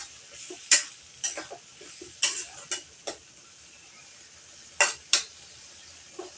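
Fried mukhi and soybean being stirred in hot oil in a pan with a faint sizzle underneath, and a spoon scraping and tapping the pan in a dozen or so sharp, irregular clicks.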